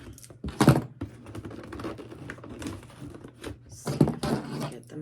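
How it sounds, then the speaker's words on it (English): Kid scissors that are not very sharp snip and scrape at packing tape on a box holding hot rollers, close and uneven, with sharp clicks and rustling cardboard crackle between the cuts. "I forgot to cut the tape off of this"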